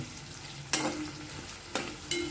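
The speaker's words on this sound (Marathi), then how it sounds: "याला पंधरा सेकंद व्यवस्थित हलवून घ्या" A steady sizzle of diced potatoes frying in a pan for a dry potato dish, broken by three sharp scraping strokes of a spoon stirring them, close by.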